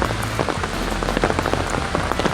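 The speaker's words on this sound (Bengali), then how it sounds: "সো বৃষ্টি একটু কমলো" Rain patters steadily on a surface up close, a dense scatter of drops with a low rumbling undertone.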